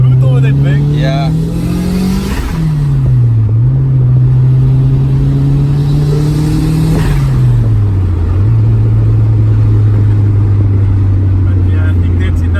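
A Toyota MR2 with a 3SGTE turbo engine pulls hard in first gear, a loud, close droning growl that rises, dips at shifts and keeps surging, with voices talking over it.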